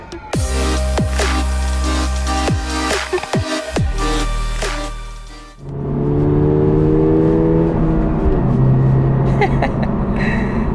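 A 2024 Subaru BRZ manual sports car being driven, its engine note loud and steady, rising and falling with gear changes and brief pauses, then a steady cruising drone with road noise.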